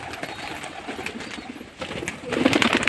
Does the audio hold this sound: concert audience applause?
no